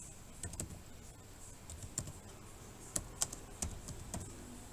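Soft, irregular clicks of typing on a computer keyboard, with a few sharper keystrokes standing out over a quiet room.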